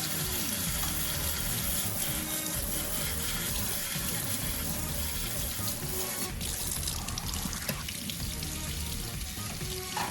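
Steady forceful water spraying and splashing while cleaning blue crabs, continuous and close, with occasional clatter of crab shells in a sink.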